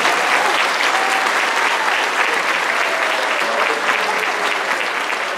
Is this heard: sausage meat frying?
no